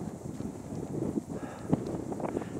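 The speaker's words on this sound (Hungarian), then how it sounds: "Fúj egy kicsit a szél." Wind buffets the microphone at about 2500 metres on the Col de la Bonette mountain pass in the French Alps, a steady low rumbling gust with a few thumps.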